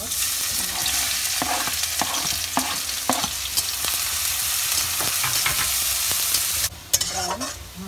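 Onion frying in hot oil for a spinach and paneer dish, a steady loud sizzle with intermittent stirring clicks and scrapes throughout, briefly dipping near the end before resuming.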